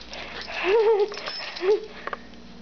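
A dog whimpers and whines for a treat in a few short, high, wavering cries with sniffing between them, close and fairly soft.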